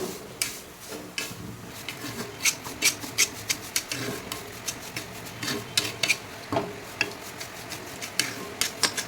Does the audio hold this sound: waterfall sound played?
no